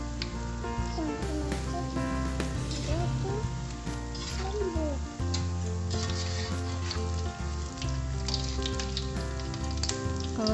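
Fritters sizzle steadily in hot oil, a dense continuous crackle close by that runs throughout, mixed with background music and occasional scraping clatter.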